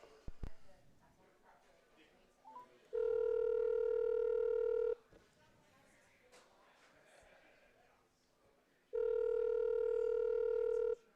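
A steady telephone tone sounds in two long bursts of about two seconds each, separated by a stretch of quieter background and speech, as a phone call is placed.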